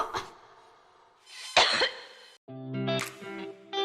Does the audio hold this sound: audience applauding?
no